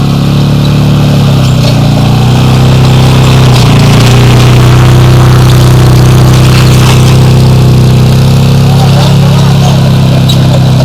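Four-wheeler ATV pulling a disc to till a field: a loud, constant engine drone with a deep low hum and rough mechanical clatter, close to the microphone throughout.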